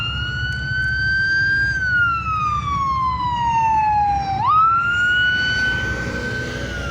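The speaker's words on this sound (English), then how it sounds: "there's what you hear a whole bunch of. Fire trucks and ambulances." A single wailing emergency siren from a fire truck or ambulance at a spring hot rod car show in Pigeon Forge, Tennessee, rises and falls in long sweeps over street noise, loud and fairly close, with no talk.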